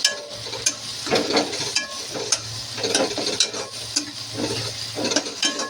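Tomatoes frying and being stirred in a pan while cooking methi bhaji, Maharashtrian fenugreek-leaf curry, with a steady low sizzle under repeated scraping and stirring strokes, close up and without talk.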